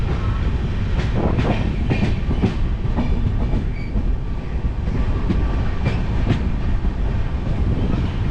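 Kanchan Kanya Express passenger train running on rails near Aluabari Road station, a steady loud rumble with rhythmic clickety-clack of wheels over rail joints, heard from on board without talk.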